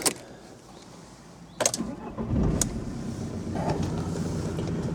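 A 1998 VW Sharan MK1 with a 1.9 TDI diesel and five-speed manual gearbox cranks briefly and catches, then settles into a steady, close idle rumble that holds to the end without any talking.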